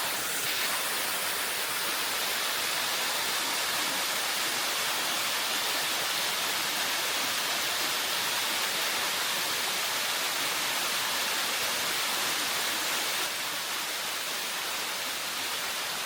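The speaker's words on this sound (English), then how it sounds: "he wants to climb this waterfall" Steady, dense broadband rush of a waterfall on a steep hiking trail at an overnight camp, constant and fairly loud, with no voices, filling the scene evenly throughout.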